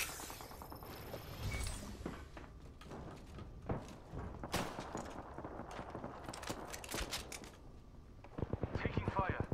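Bursts of gunfire crack and rattle in an Apex Legends match, several sharp volleys and rapid shots spread across the scene with other game effects and footsteps, while players talk over the action.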